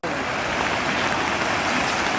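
Floodwater of the swollen Manohara river rushing past a completely submerged settlement, a steady, dense broadband roar of flowing water that holds constant and loud throughout.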